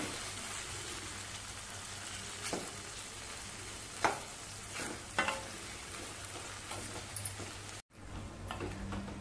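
Potatoes frying in a pan for aloo methi sabji, with a steady low sizzle and a few sharp scraping stir knocks from a spoon at a moderate distance, no voices.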